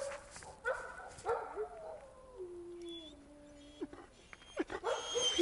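A one-year-old shepherd dog whimpers and whines in high, drawn-out tones, with a few short yips, against quiet background noise.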